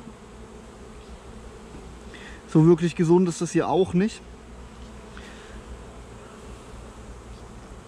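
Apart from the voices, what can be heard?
honeybees buzzing around an opened bee colony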